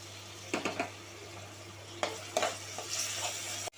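Onions and tomatoes sautéing in a pan for a kuzhambu, with a soft background sizzle broken by several bursts of spatula stirring and scraping, close and moderately quiet, no voices.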